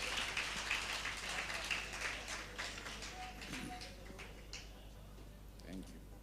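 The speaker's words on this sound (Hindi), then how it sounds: "आपकी भरपूर तालियों में रहमान फ़ारिस।" Applause rises from the audience at an Urdu poetry gathering as the poet Rahman Faris is welcomed to the stage, soft and fairly distant, thinning out after a few seconds with a voice speaking beneath it.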